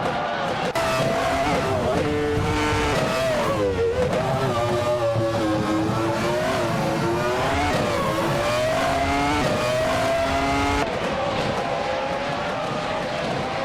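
Race cars in a racing video game, among them a 1996 Jordan 196, scream down a straight with loud, continuous high-revving engine whine, pitch rising and falling as the cars accelerate and pass, with no talking.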